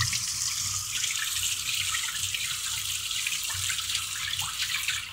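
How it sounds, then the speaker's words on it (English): Tap water runs steadily over a pasta strainer in a sink, a continuous close rushing splash with a faint patter of drips and no voices. "Just rinse it with water."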